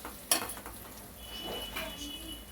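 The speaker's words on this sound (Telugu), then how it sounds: "ఫ్రై చేసి పెట్టుకున్న దొండకాయలు వేసుకుందామండి. ఒకసారి కలుపుకుందామండి." Fried ivy gourd (tindora) stirred in a pan for a curry, with a sharp metal clink near the start followed by soft scraping and faint sizzling, close and fairly quiet.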